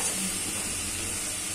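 Cubed onion and capsicum fry in an oiled pan for a Ping Pong Chilli dish, giving a steady, close, continuous sizzle and hiss with no voices.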